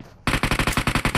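Rapid automatic gunfire in a video game bursts out suddenly after a quiet moment, a steady string of about ten evenly spaced, loud shots in quick rhythm.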